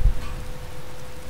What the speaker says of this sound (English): if it's raining, these fires should have gone out